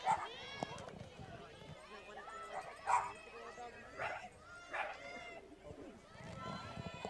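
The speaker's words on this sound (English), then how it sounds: "You might be able to hear some woofing dogs over the stream here." Dogs woof intermittently in the distance at an outdoor softball game, a few short barks rising over a steady crowd murmur and people talking nearby.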